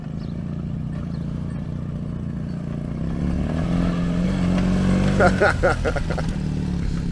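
A motorcycle on a long overland trip toward Mongolia, its engine a steady low rumble that swells slightly as it pulls away, with a brief clattering burst near the end.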